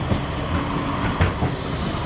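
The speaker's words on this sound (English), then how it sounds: "Here's a tram." A Blackpool tram rolling along the seafront near the Tower, a steady close rumble with a brief clunk partway through, heard alone without talk.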